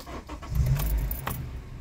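Keys jangle and clunk as they are pulled from the ignition of a 2012 Honda CR-V EX-L, a brief close metallic rattle with a low thud in the cabin.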